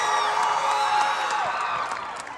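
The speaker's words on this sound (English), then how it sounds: "can we give another round of applause for our Patillas entourage?" At the AU AFIA 2023 Philippine Culture Night, an audience cheers the Patillas entourage with a dense wash of whoops, shouts and applause that holds loud, then eases off near the end.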